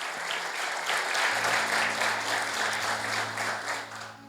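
A church congregation claps loudly and steadily for about four seconds, a dense wash of many hands with a low sustained hum running underneath.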